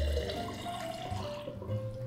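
Water from a drinking-water faucet fills a glass quickly, a steady close rush of running liquid that rises slightly in pitch as the glass fills, with no talk over it.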